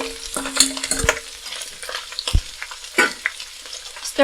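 Napa cabbage hitting a pan with garlic and onion, then stirred over high heat: crackling sizzle with several distinct scraping strokes and clanks of the utensil, close and fairly loud, no talking.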